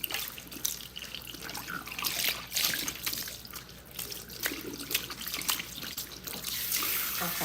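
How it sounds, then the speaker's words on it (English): Water from a tap pours and splashes steadily as clarifying shampoo is rinsed out of relaxed hair, with a continuous close-up rush and trickle that rises and falls as the flow moves. "all I'm doing is rinsing out the clarifying shampoo that I just put on her hair"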